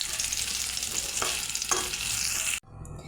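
Potatoes fry in oil until reddish, a loud steady sizzle with two brief scraping stirs, then the frying cuts off abruptly near the end as they are lifted out, leaving a quieter background.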